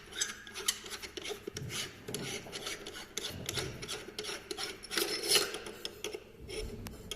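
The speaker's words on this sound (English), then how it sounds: "This is the folding joint. It's made of aviation aluminum alloy. Hear the sound. It's a metal sound." The aviation aluminum alloy folding joint of a Joyance agricultural spraying drone frame is handled by hand, making continuous close rubbing and scraping with small metallic clicks and no speech.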